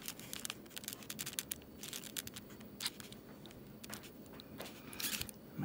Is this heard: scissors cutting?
yes